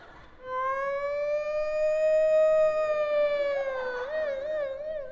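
A person's voice imitates an ambulance siren with a long rising and falling wail, ending in a rapid warbling yelp, loud and close.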